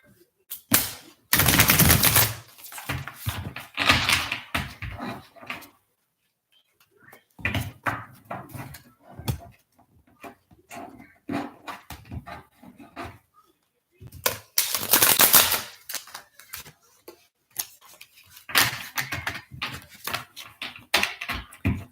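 Bursts of rapid, crisp card riffling and shuffling come in several separate rounds, with short quiet gaps in between.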